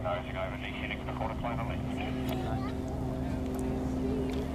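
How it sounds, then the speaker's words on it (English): Four Red Checkers display aircraft flying in at the 2012 Wanaka airshow make a steady, droning engine hum, with a voice talking over it the whole time. "you'll see that the other 4 aircraft coming in for a quarter clover"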